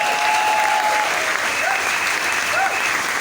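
Church congregation applauding to acclaim the Lord during a service: dense sustained clapping from many people, loud and continuous, with faint voices and whistle-like tones mixed in.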